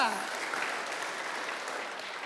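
A church congregation at a Kingdom Celebration service claps in praise to God, a soft but continuous wash of applause heard from some distance throughout.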